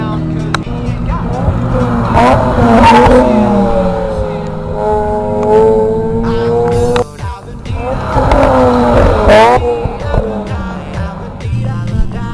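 A Mazda RX-8 fitted with a G-Reddy exhaust revs hard at a car meet, its rotary engine climbing and falling in two loud, close rev sweeps separated by a brief dip.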